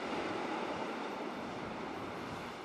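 A Rhaetian Railway train with a Ge 4/4 locomotive and Einheitswagen I coaches, carrying loaded kayaks upstream, runs along with a steady, even rumble of wheels and carriages, heard at moderate distance with no voices.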